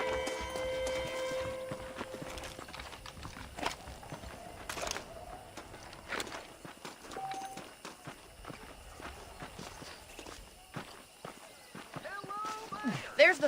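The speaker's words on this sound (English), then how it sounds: "The horses are saddled up over here." Horses walk along in the western video game Red Dead Redemption, faint rhythmic hoof clip-clops under ongoing dialogue, with a short burst of music near the end.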